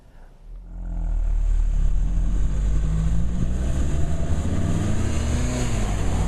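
A car with a 2.4 liter direct-injection four-cylinder engine starts off and drives, its engine note rising after a brief quiet moment into a steady, loud hum with a rising tone as it gains speed.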